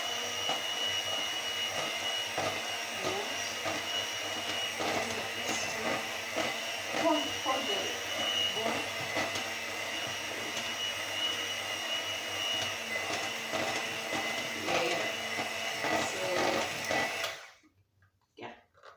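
Batter for a lemon cake being whisked, with a steady, continuous mechanical whirring of an electric mixer running at an even level for about seventeen seconds, then cutting off abruptly into near silence.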